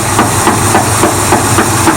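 A car makes a loud, rhythmic metallic clanking, repeating roughly every quarter second over a continuous low engine drone and hiss.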